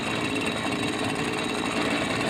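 A gas string trimmer engine idles while warming up, giving a loud, steady buzzing drone with a rapid rattling texture that runs unbroken through the short stretch.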